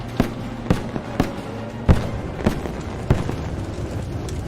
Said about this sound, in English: Bradley opens fire. Direct hits on the APC.